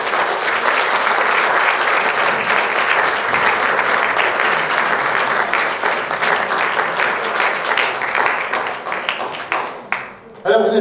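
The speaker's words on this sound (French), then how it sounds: "On applaudit Laurent." A cinema audience bursts into sustained applause, dense and loud for about ten seconds before thinning out into a few scattered claps at the end.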